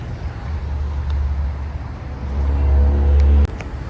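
Cars queued in a morning traffic jam at a Starbucks drive-through, with a steady low engine rumble that swells and then cuts off sharply near the end, and no talking.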